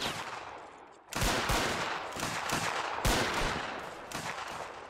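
Gunfire in the game Anglo Zulu War: Reloaded: dense rifle volleys crack almost continuously, loud and close, with a brief pause before the shooting swells again.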